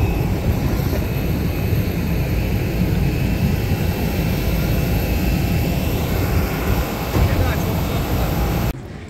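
Airplane engines roar loudly and continuously on a windy airport apron in Barcelona, a dense steady rumble that cuts off abruptly near the end.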